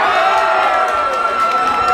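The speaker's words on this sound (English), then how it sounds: "Let's have a cheer for the red corner." A boxing crowd at a white collar boxing night in Glasgow cheers for the red corner, a loud, steady roar of voices with whoops and shouts throughout.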